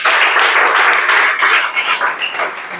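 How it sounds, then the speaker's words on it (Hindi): A classroom group claps loudly for a few seconds in a dense, close burst that gradually tapers off toward the end. "ताली बजा दो जोर से"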